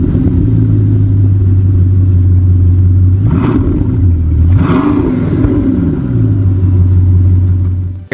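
The 8.0-liter quad-turbo W16 of a Bugatti Chiron Super Sport 300+ gives a loud, close, steady drone that swells into two rising rev surges in the middle and then settles back to a constant hum.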